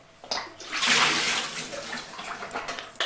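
Liquid gushes and splashes as it is poured out of a container from a Philips LatteGo 5400 series coffee machine, a close pour lasting a couple of seconds before trickling down, with no speech.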